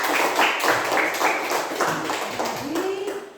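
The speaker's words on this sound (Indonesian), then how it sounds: "Tepuk tangan dulu buat kita semua." Children in a primary school classroom clap in a quick, rhythmic pattern of bursts, with voices chanting and talking along throughout.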